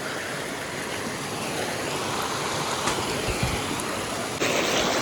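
Cold meltwater from snowfall running along a road in Kasol, heard as a steady broadband rush of flowing water, close and continuous, with a louder surge near the end.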